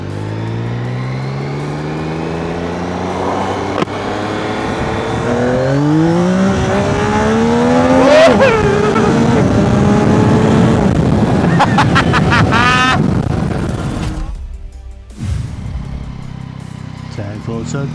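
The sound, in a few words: 2025 Yamaha MT-09 motorcycle riding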